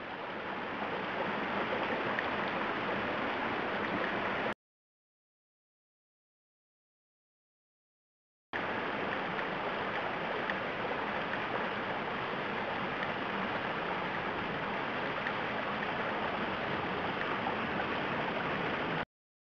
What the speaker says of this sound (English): As you can tell, we have a nice babbling brook here.